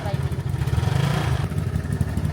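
Yamaha scooters, an Aerox and an NMAX, ride along on a road trip in Aurora, Philippines, their engines droning loudly and steadily with wind rush and voices talking over them.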